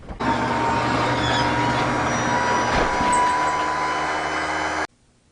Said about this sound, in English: Harley muffler.